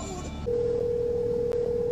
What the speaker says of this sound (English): Now I'm going to make a phone call with it, and let's see how it works.